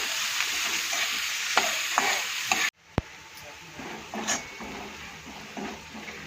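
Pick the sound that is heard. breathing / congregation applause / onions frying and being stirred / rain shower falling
onions frying and being stirred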